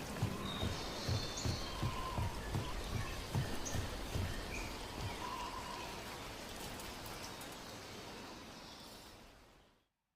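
Steady rain in the video game Dragon Age The Veilguard falls as a soft, even hiss with scattered drips and faint bird chirps, holding through most of the stretch before fading out.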